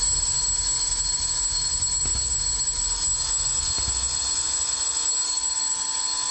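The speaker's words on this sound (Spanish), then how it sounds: "De pronto se dispara una alarma de seguridad." A safety alarm goes off at a nuclear reactor, a steady loud continuous tone with sustained high pitches droning throughout, alone with no talk.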